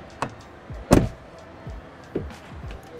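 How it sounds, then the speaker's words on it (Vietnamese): A Ram 1500 Rebel pickup truck door slammed shut with a deep thud, preceded and followed by lighter clicks and latch knocks, close by and otherwise quiet. "mình sẽ cho các bạn nghe cái tiếng đóng cửa của xe Mỹ"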